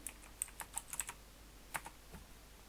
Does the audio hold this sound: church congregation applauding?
no